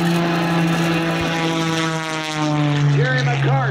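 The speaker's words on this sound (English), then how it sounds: "Rolls the airplane on the takeoff." A biplane's propeller engine drones loud and steady at close range during an aerobatic takeoff roll and dive at an air show, with the pitch shifting slightly near the end.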